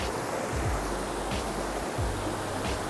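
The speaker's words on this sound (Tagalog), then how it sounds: "So malakas talaga yung daloy ng ilog" A strong river current pours over rocks in a river that floods its stones during storms, a loud, dense rush with low wind buffets against the microphone and no speech.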